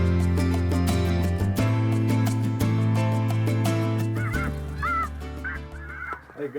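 A large flock of snow geese and blue geese honking together in a dense, continuous clamor along the Mississippi River, with a few distinct, higher calls standing out toward the end.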